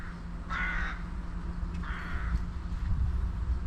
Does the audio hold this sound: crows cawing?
yes